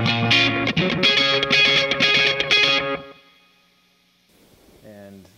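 An electric guitar plays through a Tortuga Rain Delay digital echo pedal, several bright distorted chords ringing with repeats that decay into quiet, then a softer echoing phrase returns at the end.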